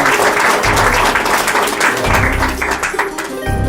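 Guests at a wedding ceremony applaud together, a loud, dense crowd clapping that continues over low background sound and some voices.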